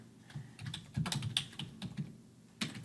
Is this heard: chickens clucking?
no